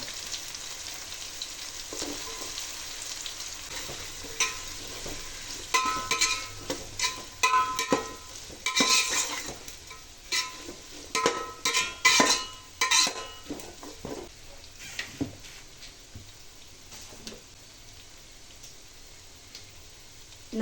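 Potatoes frying in a pan for a hotel-style potato brinji, a steady soft sizzle broken by repeated clattering scrapes of a spoon stirring against the pan.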